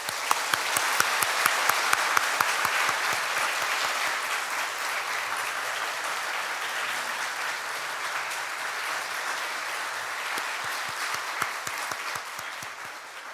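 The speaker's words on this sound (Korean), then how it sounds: "우리의 마음을 모아 힘찬 격려의 박수를 드리겠습니다." A church congregation at Sunday worship applauds in encouragement, a full, even roar of many hands clapping that holds steady throughout and fades slightly near the end.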